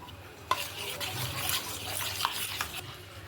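Whisked yogurt is stirred together with a poppy seed and mustard paste in a bowl, giving a soft, wet, continuous mixing sound with a few light clicks of the utensil against the bowl.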